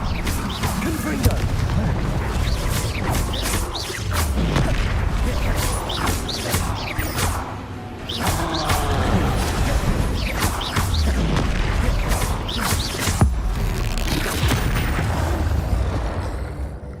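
Repeated Confringo blasting-spell explosions in the Hogwarts Legacy video game, loud booming crashes recurring every few seconds over a dense, continuous rumble of game combat.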